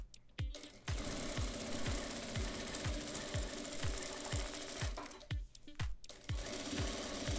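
A sewing machine stitches a seam on a Christmas star fabric piece in quick bursts of steady rhythmic needle thumps, close and clear, pausing briefly between runs.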